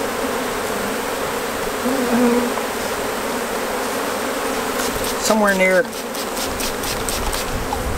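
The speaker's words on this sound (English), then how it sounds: "Look at all those bees." A large swarm of honey bees drones steadily and close, a thick continuous buzz that carries on under a brief spoken remark.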